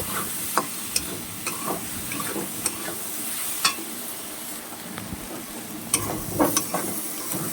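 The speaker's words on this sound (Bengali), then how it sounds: "এবার এটাকে ভালো করে নাড়তে হবে, গ্যাসটাকে আমি একটু লো করে দেব" Banana flower and potatoes frying in a pan on a low gas flame, stirred with a steady sizzle and scattered sharp scrapes and clicks of a utensil against the pan throughout, with no talking.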